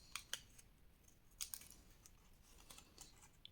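Paper being cut with scissors for a Harry Potter pop-up scrapbook album, a few faint, crisp snips and rustles spaced irregularly, close by and quiet, with no talk.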